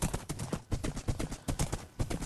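Horse hooves clip-clopping in a Bronze Age–style blocky video game world, a quick, steady run of close, distinct hoof strikes with no talk over them.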